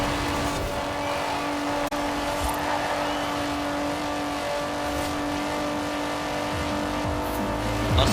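BMW 850CSI racing in Forza Horizon 4, its engine holding a steady sustained drone at high revs, loud and continuous with faint tire noise, no talking.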